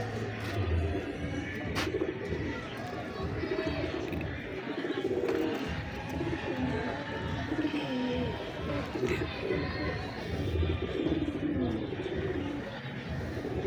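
Lakha flying pigeons of the Dilawar Khan Sahab line coo in repeated low, throaty rolling calls close by, with softer bird chirps around them.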